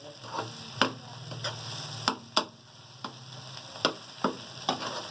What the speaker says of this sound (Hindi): आखिर में हम मिर्चें डाल के बस 1 मिनट हम पकाएंगे मिर्चों के साथ।